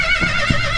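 A domestic horse at a Hutsul cart-and-horse festival on a mountain meadow whinnies in a short, harmonic cry that rides over steady outdoor background noise, with a soft thud partway through.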